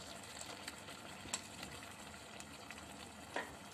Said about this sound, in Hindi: अब इस पॉइंट पे हम इसमें ऑयल शामिल करेंगे।